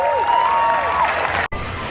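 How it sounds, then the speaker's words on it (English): A festival crowd cheers and whoops for a painter's live show outdoors, brief and lively, with a sharp cut near the end before the noise resumes. "Thanks so much for cheering me on."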